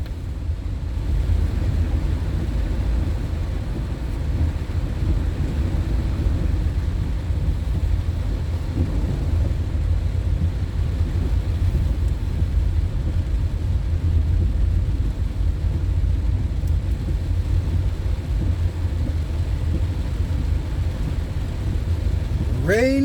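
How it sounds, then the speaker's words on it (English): Heavy rain pours down on a rainy day in Jamaica, a constant low, rushing roar that holds steady and loud from start to finish, with wind buffeting the microphone. "Rainy day in Jamaica."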